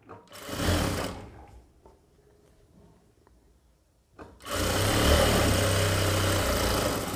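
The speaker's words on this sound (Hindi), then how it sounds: "ये हुक पट्टी को ऐसे रखकर हमको सिलाई लगाना है" A sewing machine runs a seam along a blouse hook strip: a short whirring burst, a quiet pause with light handling clicks, then a longer, loud, steady run of stitching.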